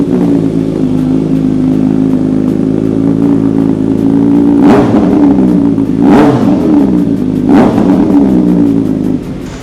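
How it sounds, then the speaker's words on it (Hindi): A superbike with an Arrow exhaust idles loudly and close with a throbbing burble, then is revved in three sharp blips before settling back to idle. "हम लोग इस मोटरसाइकिल की जल्दी से आवाज़ सुनते हैं"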